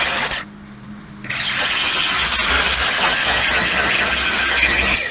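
A polisher running at about 2200 RPM buffs car paint, giving a steady high whine with grinding texture after a brief quieter start, loud and close.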